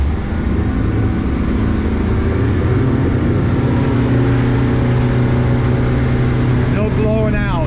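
An outboard-powered motorboat roars steadily and loudly throughout a water test for cavitation and blowout, engine note holding high with a brief shift at the end.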